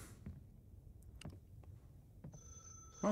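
A telephone rings in the horror video game Umbra, played in VR, with a steady electronic tone that starts near the end after a few scattered knocks and clicks against quiet ambience.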